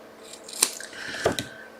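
Scissors snipping off a small piece of Seasons of Green patterned card during cardmaking, two brief crisp cuts about half a second apart, close and fairly quiet with no talking.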